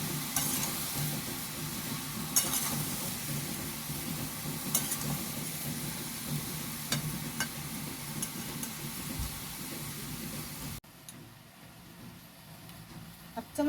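Mixed vegetables for Bengali panch mishali ghonto sizzle and fry in a pan while a spoon stirs them in steady scrapes, the frying hiss cutting off abruptly near the end.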